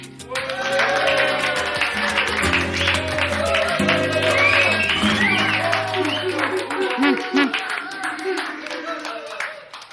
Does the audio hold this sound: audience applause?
yes